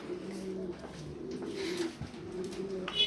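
Pigeons coo on a balcony where they are being raised, with soft, steady, throaty calls close by and faint ambient noise, and no talking over them.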